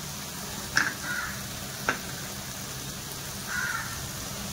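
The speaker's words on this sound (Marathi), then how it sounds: "हा मसाला छान फ्राय करून घेऊया आपण या पेस्ट मध्ये." Masala paste for veg korma frying in a pan, a low steady sizzle running throughout with a few faint clinks and scrapes on top, quiet and without talk.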